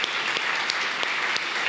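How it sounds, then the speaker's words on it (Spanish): A church congregation applauding the name of the Lord during a sermon: dense, steady clapping from a large crowd, loud and continuous throughout. "¿qué tal si levantamos un aplauso grande al nombre del Señor?"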